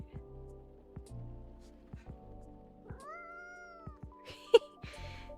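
A cat meows in the Coffee Talk video game, one drawn-out rising cry over soft background music and ambient game sounds, with a sharp click near the end.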